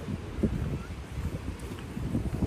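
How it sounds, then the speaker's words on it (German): Gusty wind buffets the microphone on a blustery day outdoors, producing steady low rumbling and muffled bursts that persist throughout without clear speech. "Heute ist windig."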